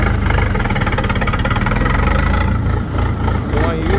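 A budget 50-horsepower DTZ tractor engine chugs loudly and steadily up close, its rhythmic rumble rising as the throttle is opened.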